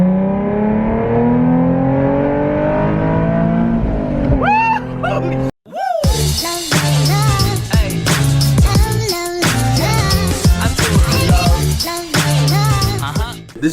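A Nissan 370Z fitted with an AFE throttle body spacer revs hard on the move. The engine note climbs and drops through repeated loud gear pulls, with a brief cutout partway through and faint voices under it.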